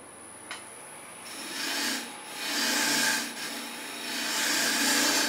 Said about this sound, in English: But this Milk Pear is turning really nicely.